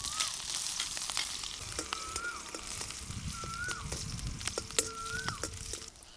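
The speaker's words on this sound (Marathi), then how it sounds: "मिरची लसूण चांगलं तळलंय" Green chilies and garlic frying in cold-pressed peanut oil over a wood-fired stove, a steady crackling sizzle with faint stirring clicks and brief bird-like chirps in the background.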